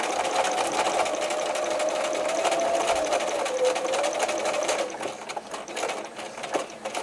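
Sewing machine stitching small elastic-edged doll mittens for an 18-inch doll, a continuous rapid mechanical whirr with steady needle ticking that slows and stutters near the end.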